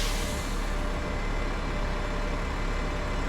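A city bus idles nearby in downtown Portland near Pioneer Square, giving a steady, dense engine rumble and hiss that stays constant throughout.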